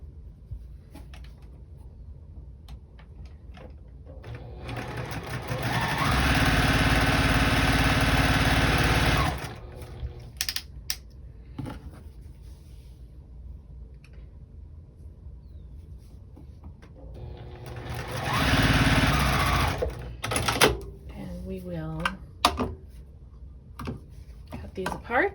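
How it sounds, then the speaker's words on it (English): A sewing machine stitches quilt block pieces together in two sustained runs of steady whirring, separated by quiet handling, with a person speaking between and around the bursts. "I will first sew a couple of pieces together."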